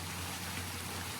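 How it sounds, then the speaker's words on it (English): Steady rain falls on a garden, a continuous, even hiss of drops on leaves and surfaces, fairly soft and uninterrupted, with no voices over it. "I hope the rain is soothing for you guys."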